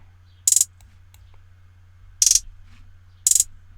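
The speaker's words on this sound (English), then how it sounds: "add the rolling hi-hat" Rolling hi-hat in a hip-hop beat, three short bursts of rapid metallic ticks, each a quick roll of several hits, spaced irregularly over a quiet low hum.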